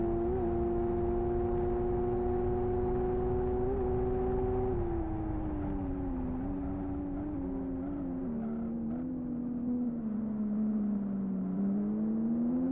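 Several racing cars in the Live for Speed driving game hold a steady, loud engine drone down long straights, the pitch sliding gently downward and back up as they slipstream, with no talk over it.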